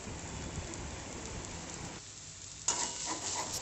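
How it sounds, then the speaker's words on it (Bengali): Soya granules frying with masala in a pan for soya keema, a continuous soft crackling sizzle with brief stirring and a sharper scrape near the end. "দিয়ে দিলাম সোয়া গ্র্যানিউলসগুলো।"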